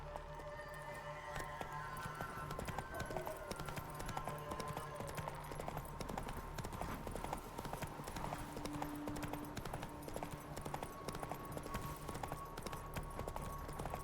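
Roach the horse gallops in The Witcher 3, hooves clip-clopping in a steady rapid rhythm under game music and ambience, with a short neigh partway through.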